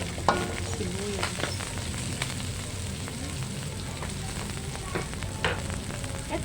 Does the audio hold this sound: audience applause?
no